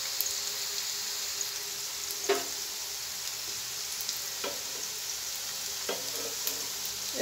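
Dough balls fry in hot oil with a steady, close sizzle, while a few soft clicks and knocks from stirring and turning break through at intervals.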